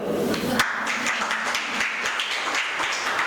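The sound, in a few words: audience clapping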